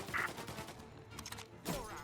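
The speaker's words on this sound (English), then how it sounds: "Reports of gunshots." Two sharp bursts of gunfire in Mafia: Definitive Edition, one near the start and one louder near the end, crack over a busy background of game noise.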